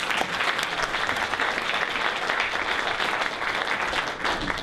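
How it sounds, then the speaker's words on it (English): An audience applauding a volunteer at a comedy magic show, dense steady clapping from a full crowd throughout, loud and continuous. "A big round of applause for my volunteer."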